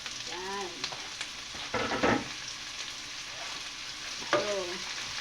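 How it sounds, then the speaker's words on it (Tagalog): Garlic, onion and tomato sautéing in a pan, a steady soft sizzle with occasional stirring scrapes and brief louder crackles, no talking. "Papupulahin muna natin ng konti ang bawang at sibuyas."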